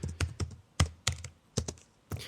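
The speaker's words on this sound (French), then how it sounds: "même ton bruit de clavier, il m'insupporte" Quick, sharp keystrokes clatter on a computer keyboard in short irregular bursts, close and fairly loud, with brief silent gaps between the clusters of taps.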